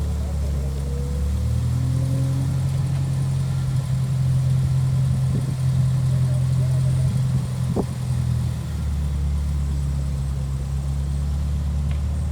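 A car engine idles steadily with a low, constant hum and drone that runs unbroken through the whole stretch, close by with no talk over it, at an outdoor memorial gathering.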